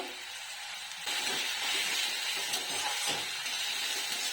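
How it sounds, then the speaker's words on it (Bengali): Chopped garlic hits onions already frying in a wok, and the steady hiss rises to a louder, broader sizzle that carries on evenly with faint stirring clicks underneath. "পেঁয়াজটা একটু ভাজা ভাজা হয়েছে, তার মধ্যে দিয়ে দিলাম রসুন কুচোগুলো।"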